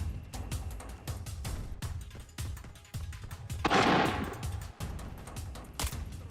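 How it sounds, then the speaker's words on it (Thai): Rapid bursts of video game gunfire in Arena Breakout crack repeatedly, some close and sharp, with a louder blast in the middle and scattered shots continuing. "เสียงปืนคนปะวะ"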